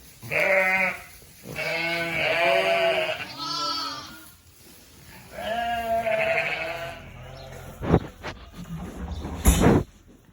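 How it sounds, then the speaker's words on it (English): Several ewes bleat in a lambing barn, loud close calls repeating in overlapping bursts, followed by a couple of sharp knocks near the end. "Here are the open ewes."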